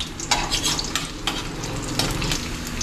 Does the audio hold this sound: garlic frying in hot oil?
yes